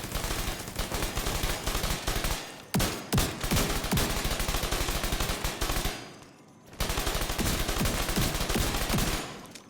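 Dense, rapid gunfire in The Division 2 video game, with a deployed turret rattling out continuous bursts mixed with heavy shotgun blasts, loud and sustained, dropping out briefly twice before resuming.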